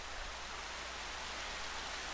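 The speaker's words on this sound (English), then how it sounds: "and of course it's raining." Rain falls in the action game Horizon Zero Dawn as a steady, even hiss of downpour, with no talking over it.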